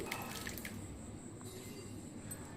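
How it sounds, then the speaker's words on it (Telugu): Sago pearls are rinsed with water in a sieve, giving a faint, steady trickle and drip of running water throughout, with no voices. "ఇలా నీళ్ళు వేసి కడిగారనుకోండి, ఆ జిగురంతా పోయిద్ది."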